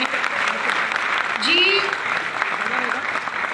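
Steady, dense applause from a crowd, holding at an even level throughout, with a short voice rising briefly partway through.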